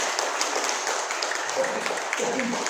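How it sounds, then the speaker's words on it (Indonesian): An audience at a health seminar claps loudly and steadily in a dense, continuous burst of applause, close and filling the whole moment without talk. "Tepuk tangan yang keras jangan ragu."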